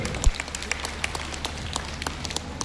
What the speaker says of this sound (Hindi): इनके लिए जोरदार तालियां साथियों